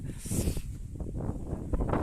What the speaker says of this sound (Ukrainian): я намагаюся перекричати той вітер